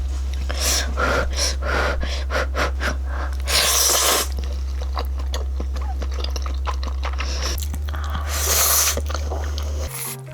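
Close, wet chewing and slurping of spicy Buldak fire noodles eaten with steamed egg and cheddar cheese, bites repeating in bursts with louder squishy moments, steady low hum underneath and no talk.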